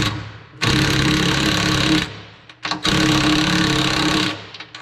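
Power tool driving nuts tight on bolts through the wooden deck of a rebuilt trailer, two sustained loud buzzing bursts of an impact driver, close up, with a short pause between them and no talk.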